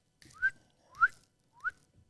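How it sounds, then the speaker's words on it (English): A person whistles three short rising notes in a row, each clear and close, with brief pauses between them and no talking. "You can't whistle very quick."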